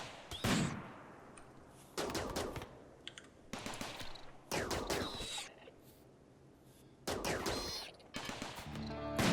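Bursts of automatic gunfire in the strategy game RimWorld, during a room-by-room assault with a turret nearby, come in four or five sharp separated volleys over quiet background.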